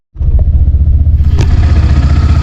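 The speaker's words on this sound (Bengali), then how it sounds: "আমাদের একটা একটা করে বাইক আগাচ্ছে" Motorcycles set off one by one from a hill resort at Bandarban, the nearby engine starting abruptly and then running in a loud, steady, throbbing rumble.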